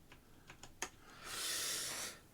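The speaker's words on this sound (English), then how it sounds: "I can just reach around here and do an Alt-Tab on my keyboard" A few light clicks of keys pressed on a computer keyboard, an Alt-Tab combination, come quietly and close together, followed by a brief soft hissing rush.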